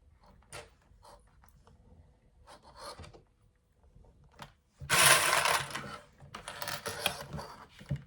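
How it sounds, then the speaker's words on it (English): Sewing clips being fastened around the curved pocket edge of a handbag, heard as scattered small plastic clicks and taps, then louder rustling and scraping of fabric handled up close. "you can clip all the way around the curved edge"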